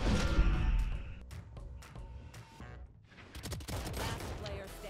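Rapid bursts of rifle fire and thudding impacts during a Valorant match, loud and dense, broken by a short lull before firing resumes, with players talking over it.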